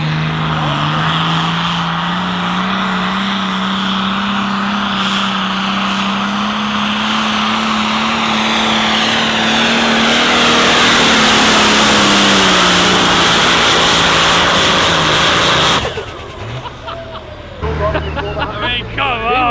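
A 2,000 horsepower diesel tractor roars loudly at a tractor pull, its engine note holding steady and climbing before it cuts off abruptly near the end, with people talking over the noise.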